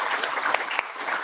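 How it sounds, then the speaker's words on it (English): A conference audience at a Brussels data-themed annual meeting claps for presenters, a brief burst of crowd applause with a few sharper individual claps. "Join me in giving another round of applause to the presenters."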